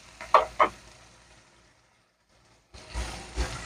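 Tomatoes cook in a pan for pasta sauce, opening with two sharp clattering knocks, dropping to a near-silent pause, then returning to a crackling sizzle.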